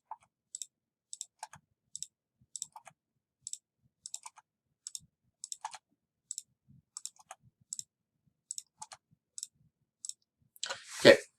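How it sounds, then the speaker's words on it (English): A computer keyboard's enter key is pressed in quick repeated clicks, sharp, close and evenly spaced every second or so over about ten seconds, ending in a brief louder rustle. "I'm just clicking enter between so that I can quickly use the same command"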